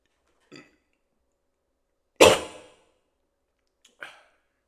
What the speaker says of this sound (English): my burping, bro, what is going on?